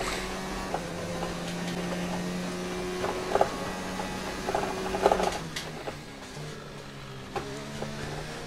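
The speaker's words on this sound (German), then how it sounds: "Aber wahrscheinlich hat der Motor nicht ganz so rund zu laufen, wie er sollte. Gerade wenn im Leerlauf jetzt," A Formula 1 car engine idles roughly in the F1 2019 racing game during a practice session at the French Grand Prix. A low, uneven drone stutters and shifts pitch, with light mechanical rattles and clicks.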